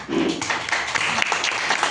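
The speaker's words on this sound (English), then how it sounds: "everybody should clap" A group of players clap hands together during a counting party game, a dense burst of claps sustained throughout with raised voices mixed in.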